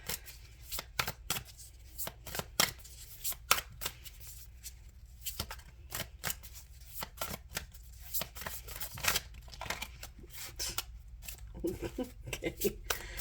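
Tarot cards are riffled and shuffled close up in a steady run of quick, crisp flutters and taps, with a quiet voice talking now and then.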